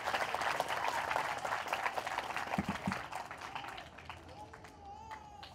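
A congregation at a Maundy Thursday Catholic Mass breaks into lively applause that fades out after a few seconds, leaving a quieter room where a voice can be heard.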